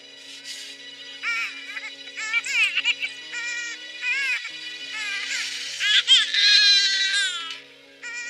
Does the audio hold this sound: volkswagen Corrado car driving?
no